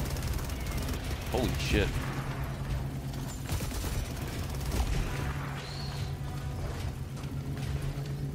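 Gunfire in the Helldivers 2 video game, scattered booming shots and bursts over a constant low rumble, with players talking over the action.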